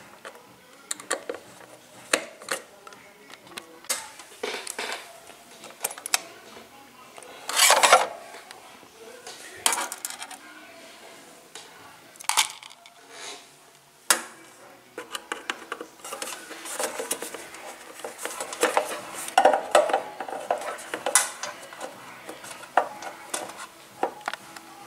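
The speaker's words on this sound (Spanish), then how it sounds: "podemos desatornillar los que están acá en la parte inferior y así liberar completamente la etapa del circuito" A screwdriver backs screws out of the circuit board inside a Cuisinart TOA-60 air fryer oven. Close, intermittent scraping, creaking and small clicks come in irregular bursts, with no talking.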